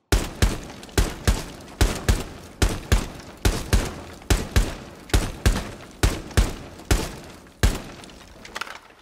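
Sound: gunshots hitting a barricade in a video game

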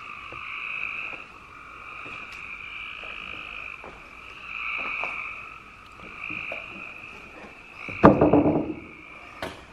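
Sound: frogs croaking

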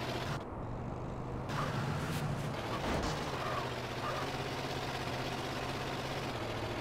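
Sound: vehicle engine running, from video game GTA San Andreas

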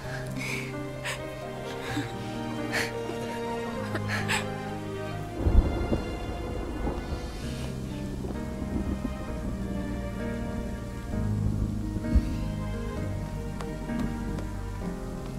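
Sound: rain and thunderstorm

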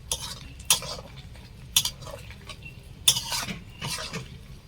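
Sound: onions being fried and stirred in a pan

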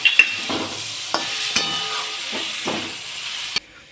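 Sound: stirring boiled potatoes and tomatoes frying on tawa

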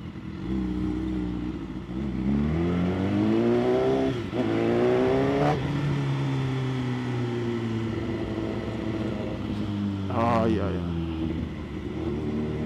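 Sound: BMW S1000 RR motorcycle riding

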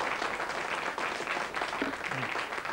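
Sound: studio audience applause

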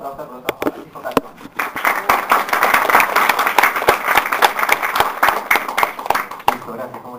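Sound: applause

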